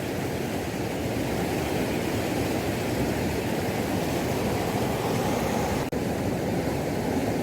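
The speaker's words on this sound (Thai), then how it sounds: "ฟังเสียงบรรยากาศ น้ำตกนะครับเนาะ รุ่นไปไปพร้อมครับ บรรยากาศสุดยอดนะครับน้ำแรงสุด" A strong waterfall pours at a nighttime fishing spot, giving a loud, steady broadband roar of rushing water that holds throughout with only a brief dropout near the end and no talk.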